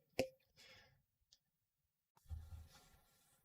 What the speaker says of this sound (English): And I'm clicking more buttons.